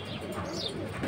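Pigeons at a high-flying pigeon market coo softly while wings flap briefly nearby, a short, faint burst of bird sounds.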